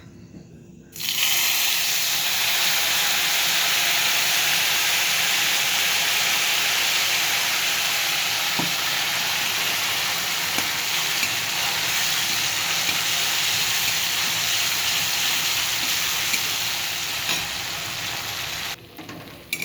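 Spice paste fries in a pan for a vegetarian paneer dish, making a loud, constant, close-up sizzle that starts abruptly and holds steady for about eighteen seconds with no talking.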